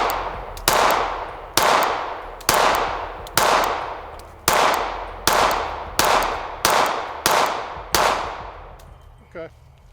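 Ten pistol shots ring out at a target in a loud, evenly spaced series, each sharp crack trailing into a short outdoor echo.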